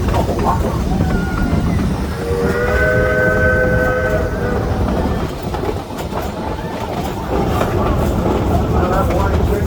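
A steam train sounds its whistle as a warning signal, a loud two-tone chord held for about two seconds amid continuous rumbling running noise, with a voice talking over the rail din.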